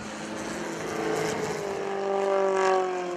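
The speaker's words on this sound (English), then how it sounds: "Hear the noise of his engine." A propeller aerobatic plane at an airshow roars overhead, its engine drone rising and falling in pitch with a Doppler sweep as it passes, loud and continuous with no talking.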